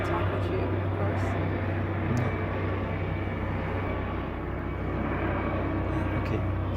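Airplane passing overhead, a loud steady broadband roar with a deep low rumble that fills the whole stretch without fading.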